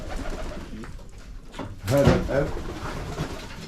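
Shami pigeons in a loft in Berlin, Germany, give a loud, close burst of throaty, rolling coos, with softer cooing and rustling around it and someone speaking nearby.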